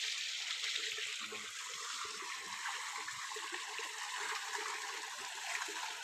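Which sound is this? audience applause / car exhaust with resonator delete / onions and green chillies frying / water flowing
water flowing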